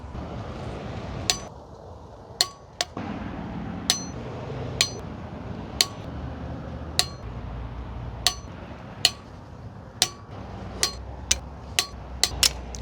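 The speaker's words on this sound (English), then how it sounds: "Now we're torquing them all to 50 foot-pounds." Torque wrench clicks ring out while ARP cylinder head studs on a Honda CB7 are tightened outdoors, a dozen sharp metallic ticks at irregular intervals over a low background hum.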